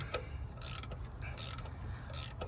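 Nut being turned on a Torqhead balancer installer threaded onto the crank of a 1994 Caprice wagon, giving three short bursts of ratcheting mechanical clicks, close and sharp, with quiet pauses between.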